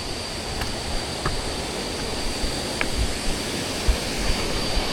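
A waterfall in a Chiang Mai jungle rushes with a dense, steady roar of falling water, broad and continuous at moderate loudness, with no talk.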